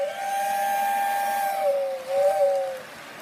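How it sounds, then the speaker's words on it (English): A Lionel Polar Express O gauge toy train whistle blows in a steady two-tone chord for about a second and a half, then sounds again in a shorter blast, close and fairly loud. "That's right, whistle."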